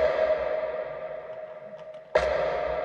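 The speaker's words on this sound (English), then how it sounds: "that's the reverb with the percussion sound" Percussion hit drenched in long reverb in an electronic pop track, a sustained ringing tone decaying slowly before a sharp new hit lands near the end, clear and without talk.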